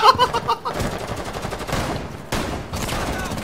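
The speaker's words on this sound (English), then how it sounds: "Who's shooting me?" Rapid bursts of gunfire from the Rainbow Six Siege video game, loud and dense with overlapping shots across the whole span, near and continuous with a brief dip partway through.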